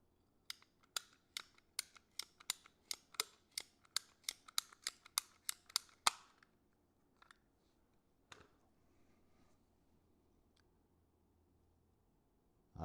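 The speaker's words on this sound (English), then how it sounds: "I try to cut these down the middle so that the two halves are relatively the same" Cutting a Maxfli TriFli golf ball in half: a rapid series of about fifteen sharp, close snipping clicks at a steady rhythm, then a few sparse faint clicks in near silence.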